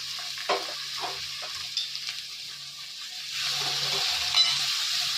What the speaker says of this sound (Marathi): कांदा कोथिंबीर बारीक स्मॅश करून घेतलेली ती टाकत आहोत थोडंसं ते आपण परतून घेत आहोत